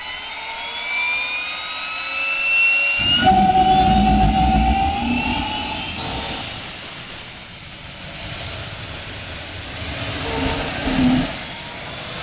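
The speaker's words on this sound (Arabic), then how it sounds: "راعي هذه البورش شال الماكينة اللي عليها وحط بدالها محرك نفاث." A Porsche refitted with a jet engine in place of its original motor gives off a loud, continuous turbine whine and roar, with high tones sliding up as it spools and a low rumble underneath, steady and close without talking.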